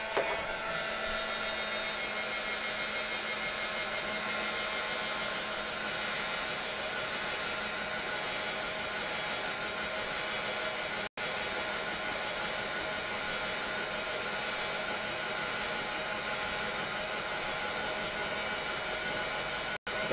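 A heat tool blows a steady, loud, even whooshing hiss as it dries paint on a mixed media album, running continuously with two brief cutoffs and no talking.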